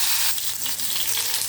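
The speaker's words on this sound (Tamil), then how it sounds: "எண்ணெயிலே கத்திரிக்காய் வதங்கட்டும்." Eggplant pieces fry in hot oil for a thick kathirikai kuzhambu, giving a steady, close broadband sizzle throughout with no voices.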